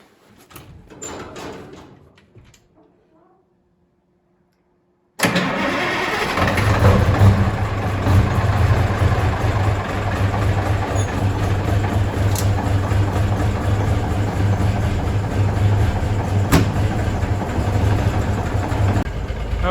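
A 1977 Kenworth W900A truck engine cranks over after a brief mechanical rattle and a pause, then catches and settles into a loud, steady diesel idle that runs continuously close by.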